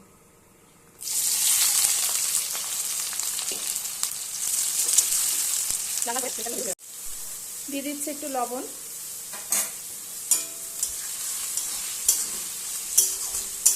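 Sliced onions for biryani sizzle loudly in hot white oil in a kadai, a steady close crackle that begins abruptly and runs throughout, with occasional stirring clinks and someone speaking over it.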